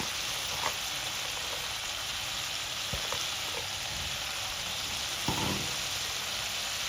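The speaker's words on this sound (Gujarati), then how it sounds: "અહીંયા આપણે સમારેલી જે ડુંગળી લીધી હતી એ નાખી દઈએ" Chopped onion dropped into a hot pan for a vegetable dish, frying with a steady soft sizzle and a few brief clinks and stirring scrapes over the crackle.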